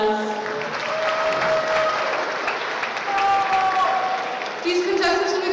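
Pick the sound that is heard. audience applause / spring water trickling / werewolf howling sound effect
audience applause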